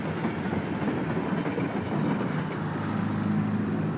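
A train rumbles steadily along the rails, a continuous low roar with a faint rhythmic clatter throughout, fairly close and without any voices.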